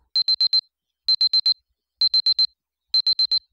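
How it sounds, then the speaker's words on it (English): A digital wristwatch alarm in the I/O visual novel game beeps in groups of four quick high-pitched tones, the pattern repeating four times with short silent gaps between them. "I find my watch alarm is going off"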